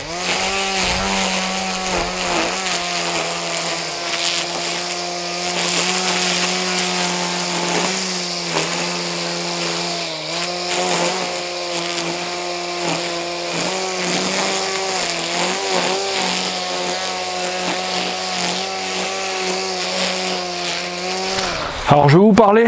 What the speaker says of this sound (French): il suffit d'accélérer et de taper au sol